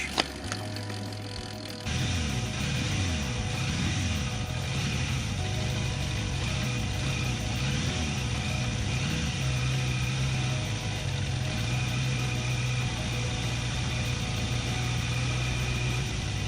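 A car engine idles steadily while its carburettor mixture is being adjusted, a low continuous hum that starts abruptly after a short quieter stretch and holds with slight pitch wobbles, close and moderately loud with no talking.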